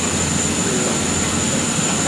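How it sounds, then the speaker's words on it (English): A steady, loud mechanical roar comes from a distillery mill grinding malted barley into grist. The drone carries on without a break and no one speaks over it. "this is the mill milling the grist."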